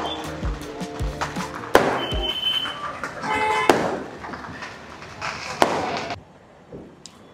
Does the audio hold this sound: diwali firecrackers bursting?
yes